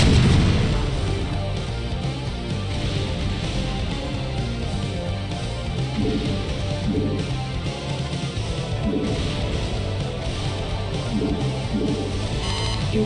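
A Terran battle in the original StarCraft, with dense, continuous gunfire and booming explosions layered into a loud, unbroken wall of combat noise that runs the whole length.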